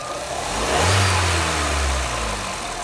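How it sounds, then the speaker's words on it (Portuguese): A Jeep Renegade engine with a rough idle and hard-starting fault is revved once, swelling from a steady idle to a loud, close rise in pitch and then settling back, with no voices present. "dar uma acelerada ali, para ver o que vai acontecer"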